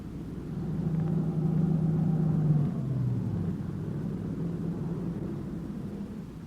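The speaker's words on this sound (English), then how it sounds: "It swung off the dirt road and pulled to a stop near the shack." A dark late-model sedan swings off a dirt road and rolls to a stop near a shack, its engine a low rumble that swells, holds with a brief hum, then settles and fades.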